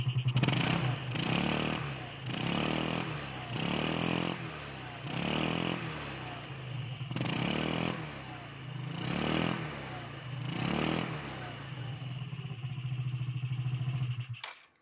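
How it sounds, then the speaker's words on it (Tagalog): A motorcycle engine with a faulty carburetor diaphragm is revved repeatedly, about eight rhythmic rises and falls over an idling rumble, close up, before cutting off. "i-rev ko yung makina"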